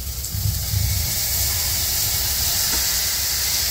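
Cuttlefish adobo with plenty of onions and black pepper sautéing in a pan, giving a loud, steady hiss and sizzle with a brief bubbling rumble near the start.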